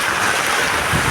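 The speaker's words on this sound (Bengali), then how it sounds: "কঠিন বৃষ্টি হইতে আছে, কঠিন।" Heavy rain pouring down outdoors while water floods across a road, a loud, dense, continuous roar of rain and rushing water without voices.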